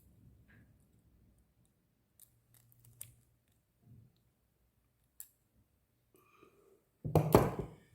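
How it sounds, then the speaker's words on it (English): Pliers cutting a small paper clip while making a miniature candle: faint scattered clicks and handling noises, then one loud, sharp snip near the end. "So then you need a pair of pliers to cut this off."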